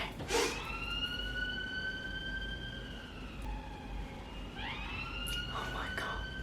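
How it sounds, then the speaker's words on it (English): Emergency vehicle sirens wail outside, holding steady tones and then rising in a sweep near the end, continuous and moderately distant. "everyone's out blaring their sirens, so just wait till that goes"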